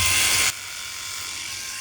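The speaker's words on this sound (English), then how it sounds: "Here I just shave straight against the grain to get a closer cut rather than too much this circling business." A Philips i9000 Prestige electric shaver hums steadily while shaving straight against the grain, a close buzzing drone with a louder stretch at the start, heard alone.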